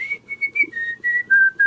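A person whistles a smooth melodic line in a song recording, a clear sustained tone sliding gently between notes, close and alone.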